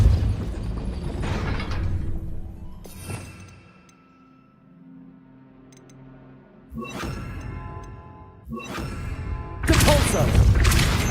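A Depulso spell is cast in the Hogwarts Legacy game: several loud, booming force bursts with lingering ringing tails, separated by quieter stretches.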